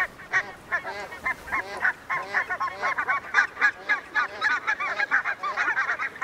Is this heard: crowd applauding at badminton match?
no